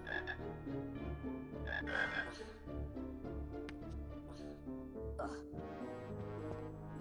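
Frogs croak in the Harry Potter and the Sorcerer's Stone video game, repeated tonal croaks in an uneven rhythm over layered game music and ambience, fairly faint overall.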